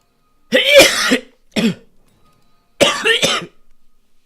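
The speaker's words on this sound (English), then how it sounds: "Sorry, guys, I'm just coughing up my lungs." Harsh, repeated coughing in three separate bursts, close and loud, with short silent gaps between them and no speech.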